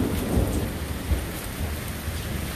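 Steady, heavy rain pours down during an Austin thunderstorm while low thunder rumbles through it, loud and close, with no talking.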